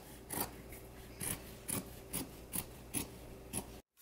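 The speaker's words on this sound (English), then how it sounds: "I'm gonna go ahead and trim this to within 3/8 of an inch seam allowance." Fabric scissors snip through a sewn seam allowance in a steady series of about seven crisp cuts, evenly spaced and close, each with a short rasping bite, ending in sudden silence.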